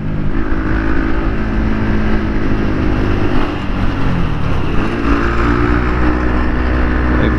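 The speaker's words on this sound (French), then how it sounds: "C'est une moto comme au bled ça." A battered old motorcycle or scooter engine drones loudly and steadily close by in the Philippines, a rough buzzing motor holding a fairly even pitch throughout.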